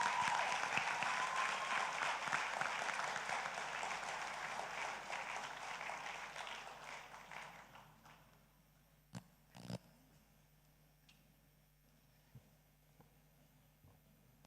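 Audience applause at a Class of 2026 graduation ceremony, loud sustained clapping that gradually fades out over several seconds, followed by a few faint scattered claps in a quiet hall.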